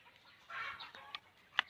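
A chicken clucks faintly at a distance, giving a short burst followed by a couple of sharp isolated calls, set in a quiet rural province.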